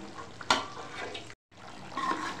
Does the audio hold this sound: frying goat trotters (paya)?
yes